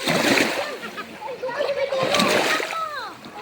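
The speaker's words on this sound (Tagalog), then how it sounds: "maririnig mo pa lang ang ganitong tunog ng tubig" Water splashes and sloshes steadily along the shoreline at Talisay Beach, with children's voices and chatter mixed in throughout.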